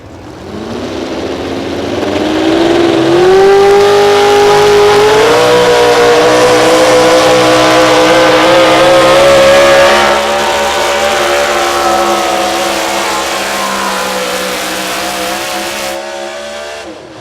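A modified 4x4 Chevrolet truck, the Bowtie, roaring down the track at an outlaw tractor pull, its loud engine climbing steadily in pitch and then holding a sustained, straining howl until it cuts off near the end.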